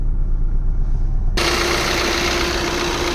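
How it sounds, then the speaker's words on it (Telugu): A 2017 Maruti Swift Dzire VDi diesel engine idles steadily, a close, loud low rumble with even vibration that grows brighter and fuller partway through, and no talk. "నాయిస్ కూడా చూసుకోవచ్చు, చాలా క్లియర్గా ఉంది ఇంజిన్ నాయిస్"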